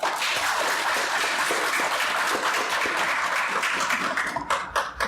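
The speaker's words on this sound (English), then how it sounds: "let's give them a round of applause" An audience at a comic convention panel applauds steadily throughout, a dense wash of clapping that holds strong and then begins to thin out near the end.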